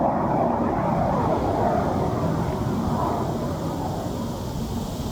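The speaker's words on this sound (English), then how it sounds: "the fighter jet" A fighter jet roars overhead as a loud, broad rumbling wash that stays steady and fades only slightly at the end, with no talking.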